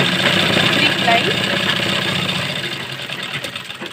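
A sewing machine runs a steady, close, mechanical whirr while stitching salwar fabric along a marked line, the motor slowing slightly toward the end.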